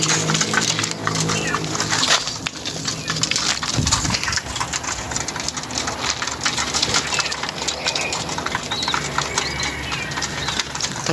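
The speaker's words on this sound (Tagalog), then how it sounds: "Ang bilis lang pala nilang pumasok kalapatids." Pigeons flying into a loft or coop, with steady bird calls and cooing, fluttering and the clatter of feet and wings spread over a busy, continuous bed of noise throughout.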